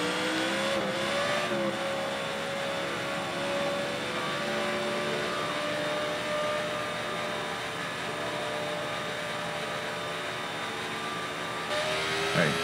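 Race car engine in the video game Nascar '14 during a practice run, a steady sustained high drone holding near-constant pitch with slight rises, loud and continuous throughout.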